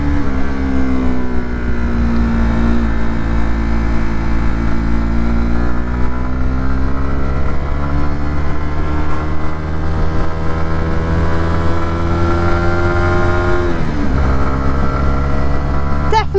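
A learner's motorcycle engine hums loud and close while the rider changes gear, a steady droning tone that sags and dips in pitch, with a jolt near the end; talking runs over it.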